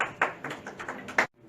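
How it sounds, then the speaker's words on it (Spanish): A handful of sharp claps ring out in quick, uneven succession for an engineer's talk at an innovation event, close and fairly loud, then stop abruptly. "Por favor, fuertes aplausos al ingeniero."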